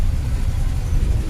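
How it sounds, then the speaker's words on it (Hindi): A jam of heavy road traffic in Dehradun gives a brief, dense low rumble of engines idling and creeping close by, steady and unbroken. "ट्रैफिक देख रहे हो आप, ये देखो"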